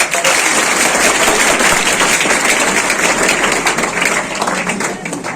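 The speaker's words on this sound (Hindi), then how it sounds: "जोरदार ताली।" Loud, dense applause from an audience at a coaching-institute felicitation event for a DSP, sustained steadily throughout without a break.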